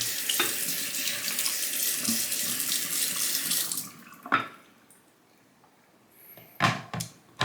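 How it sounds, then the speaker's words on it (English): Tap water gushes loudly and steadily over a Shapton 1500 sharpening stone for about four seconds, then stops. Sharp knocks and clatters of handling follow. "I'm just going to rinse off the stone real quick"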